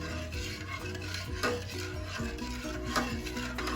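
A Milo jelly salad mixture with sugar being stirred in a bowl, soft continuous swishing with a couple of louder scrapes, set against steady background music and no speech.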